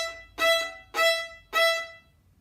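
Three crisp staccato notes bowed on an open violin string, each stopped sharply with short gaps between, played close by in a quiet room.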